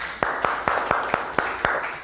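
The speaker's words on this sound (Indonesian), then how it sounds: "Oke, boleh tepuk tangan." Sharp hand claps in a classroom ring out in a quick run of about eight evenly spaced strikes, each loud and close over a constant room hiss, with no talking.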